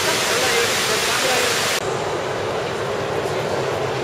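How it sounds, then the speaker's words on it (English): An indoor waterfall inside the Dubai Mall makes a steady, loud rushing hiss. Partway through, the sound becomes slightly duller and softer. "Inside, there's a fairly impressive waterfall."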